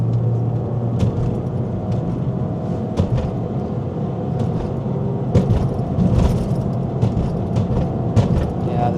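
A car engine and exhaust rumble steadily while driving along a road, with a continuous low drone and scattered light rattles and clicks from inside the cabin.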